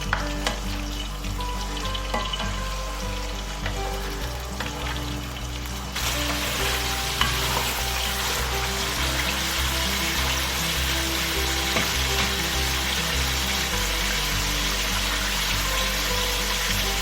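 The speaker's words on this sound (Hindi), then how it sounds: "अब मैं इसके अंदर चिकन डाल दी। का कलर हमें गोल्डन सा करना है।" Chicken pieces frying in oil for highway-style Karachi chicken karahi, a steady loud sizzle running throughout with occasional stirring, no talk.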